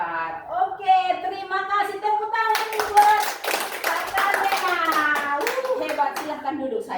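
A short round of group clapping for a child named Lena, with clustered hand claps in the middle while children's voices chatter and chant throughout.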